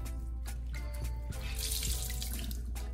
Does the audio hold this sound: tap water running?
yes